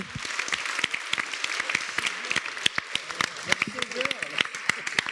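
Dense applause from an audience, steady clapping throughout with some individual claps standing out, under faint background voices.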